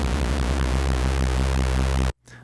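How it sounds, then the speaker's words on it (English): A thick, buzzing synth tone with a swirling, wavering chorus shimmer from an LFO detuning a second voice, held steadily and then cut off abruptly. "the chorus adds a second voice and slightly detunes it using an LFO."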